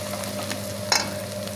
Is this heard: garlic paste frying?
yes